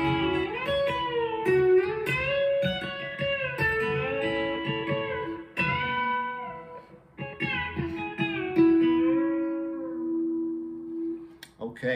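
A B-bender electric guitar plays a big lick: a solo, melodic run of ringing notes with smooth pitch bends, steady and moderately loud for about twelve seconds, fading on a long held note.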